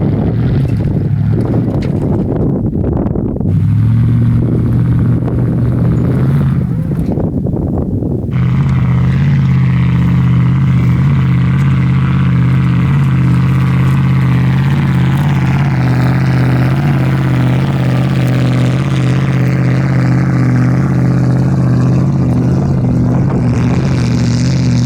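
Steady, loud drone of a truck engine climbing a steep road in four-wheel-drive low, heavy low rumble with rushing wind across the microphone, continuous throughout with no talking.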